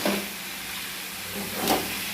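Spices with turmeric and salt sauté in a pan for a chicken curry, giving a steady close sizzle with a brief stirring scrape near the end.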